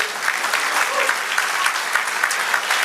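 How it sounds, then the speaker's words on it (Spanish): Church congregation applauding together, a full, sustained roar of clapping hands with a few louder claps standing out, while faint voices rise under it. "denle un aplauso al Señor."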